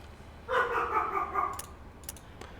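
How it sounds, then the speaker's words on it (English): A dog indoors gives a short, muffled, grumbling bark and whine at moderate distance, lasting about a second, followed by a few faint clicks. "My dog does not approve, by the way."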